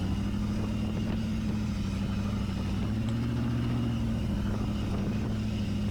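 A junkyard Toyota Prius with replacement power steering drives off-road, its engine giving a steady, close mid-pitched drone and rumble with a slight rise in tone partway through, and no voices.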